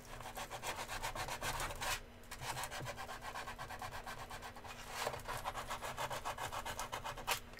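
Sandpaper rubbing back and forth over wood during a live build, a steady dense scratchy rasp with rhythmic strokes that briefly pause, close and continuous.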